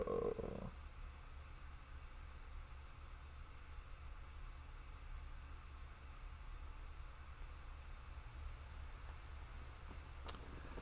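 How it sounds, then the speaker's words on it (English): Quiet, steady drizzle of rain from a Tsukihime visual novel scene, a soft continuous hiss that holds even throughout, with a brief louder moment at the very start and no voices. "I can hear the sounds of rain coming from somewhere. It's a prolonged, quiet drizzle."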